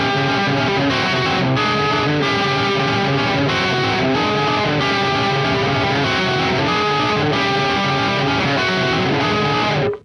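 A heavily distorted electric guitar plays a riff built on pedal tones, with a diminished fifth moving underneath, loud and saturated with a steady, driving rhythm and brief gaps between phrases.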